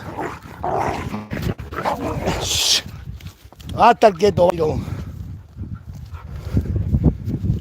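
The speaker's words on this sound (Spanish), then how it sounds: "Es este perro se engancha con todos" A dog on a farm with cattle yips and barks in short bursts near the middle of the clip, amid someone talking and outdoor rustling.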